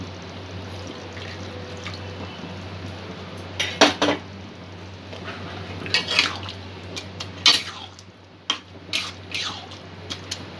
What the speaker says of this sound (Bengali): সামান্য একটু জল এখানে যোগ করছি।